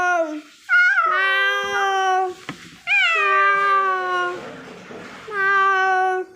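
A human voice imitates a cat, giving three drawn-out, wavering meows with clear pitch slides, close and loud, separated by brief pauses.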